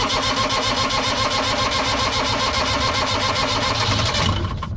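A New Holland LS125 skid steer's starter cranks on and on in a fast, even, chugging rhythm, loud and close, as the engine fails to catch, then cuts off at the end.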